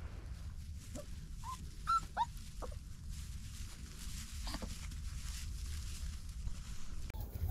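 Young puppies whimper and yip in a scattered series of thin, high cries over a low rumbling background. They are moderately close and there is no talking.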